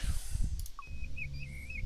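Plover call in the video game Colossal Cave 3D, a thin whistled chirp followed by a faint, wavering high trill, heard after a low rumbling game ambience with a couple of soft clicks.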